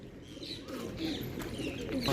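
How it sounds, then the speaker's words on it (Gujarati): A flock of pigeons gathering to peck at feed coos in a low, steady murmur under a constant background rumble, with faint chirps scattered through. "તો ભાઈ કબૂતર આટલા આવી ગયા"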